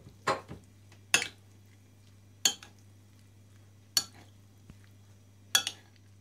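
Potato salad with pickled mushrooms, cucumbers and peas being stirred in a bowl, five distinct utensil clinks spaced about a second apart over a low steady hum, close and otherwise quiet.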